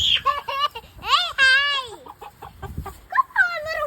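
Farm chickens and roosters clucking and squawking up close in bursts, with children's voices and giggles mixed in between the calls.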